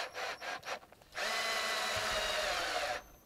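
A power drill drives a screw into a timber corner post of a raised garden bed, starting with short stuttering bursts and then giving a steady close whir for about two seconds before stopping.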